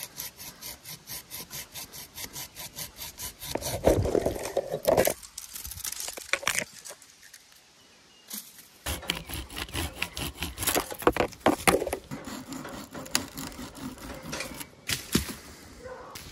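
A small hand pruning saw trims twigs and smaller branches off a tree branch, with steady rapid rasping strokes, a short pause, then more brisk close-up sawing.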